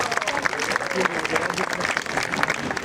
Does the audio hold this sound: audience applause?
yes